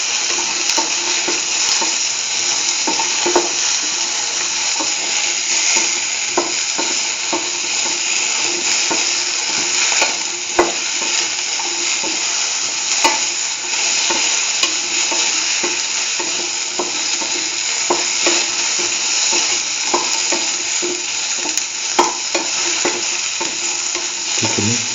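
Okra sautéing in a pan for a curried mustard okra stew, a steady dense sizzle with frequent soft stirring scrapes and small pops, continuous and close throughout with no talking.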